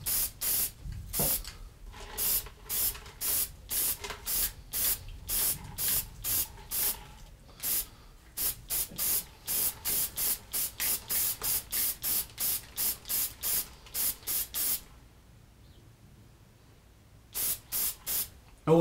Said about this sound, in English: So now we're going to spray the edge.